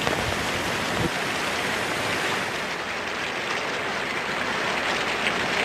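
Heavy, steady rain pours down during a typhoon in North Korea, a dense continuous hiss with gusting wind and no talk, loud and close throughout.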